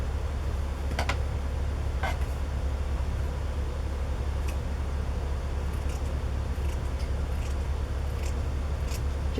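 Scissors snipping lace for a handmade Christmas journal, with a few sparse, soft clicks and cuts spaced irregularly over a steady low hum of room noise, quiet and close.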